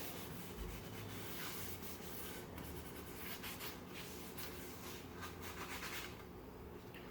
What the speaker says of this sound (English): You want to take and wipe up any of that excess that you get that hasn't soaked in